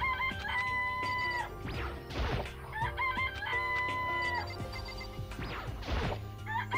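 Crowing and clucking chickens in the video game Danganronpa: Trigger Happy Havoc repeat in two similar waves. Noisy thumps and crashes are mixed in, all loud and near.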